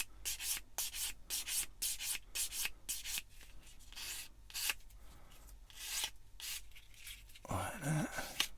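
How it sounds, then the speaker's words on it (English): A sander rubs back and forth over the body of an eModels Cat-Cat model in quick, repeated strokes, close and fairly quiet, with a short clunk of handling near the end. "Go around with your sander."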